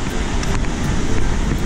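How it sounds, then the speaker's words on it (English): Ocean waves wash onto the beach below the cliffs at Torrey Pines, a loud, continuous roar of surf mixed with gusty wind buffeting the microphone. "Listen to the sound of those waves."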